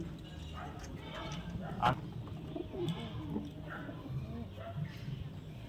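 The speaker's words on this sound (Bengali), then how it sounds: "আর এক পেয়ার কবুতর দেখাচ্ছি।" Domestic pigeons, including a Fulshira paired with a white bird, coo softly in a loft; low murmuring coos repeat steadily through the clip with faint voices nearby.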